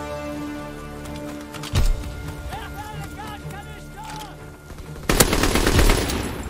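Rapid WWII-era gunfire in a team deathmatch match of Call of Duty WWII, with bursts of shots, sharp cracks and heavier blasts near the end, mixed with other game effects.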